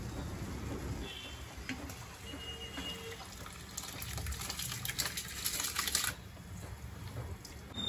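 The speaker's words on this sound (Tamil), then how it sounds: "இப்போ தண்ணி நல்லா கொதி வந்துடுச்சு." Water at a rolling boil in a pot while kanji for Aadi koozh is being made, a steady bubbling hiss with some light clinks and rattles, fairly close and continuous.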